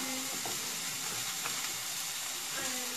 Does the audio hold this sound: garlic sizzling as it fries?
yes